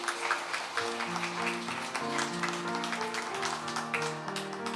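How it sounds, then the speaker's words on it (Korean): A church congregation at a Methodist Sunday service in Pyeongtaek claps after a baptism, the scattered applause running steadily under sustained keyboard or organ chords. "박수해 주시길 부탁드립니다."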